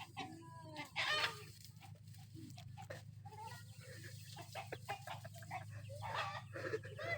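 Chickens cluck repeatedly around a coop during a chicken hunt, bursts of clucking and fowl calls scattered across the clip over a steady low hum, with distant voices faintly in the background.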